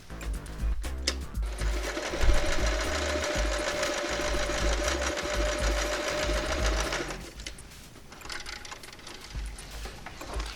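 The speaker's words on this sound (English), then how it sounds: "I'm going to sew it right there. So let's just sew from here down." A sewing machine runs a seam on hand puppet fabric, with a steady humming stitch lasting several seconds after some handling taps and followed by quiet fabric rustle once it stops.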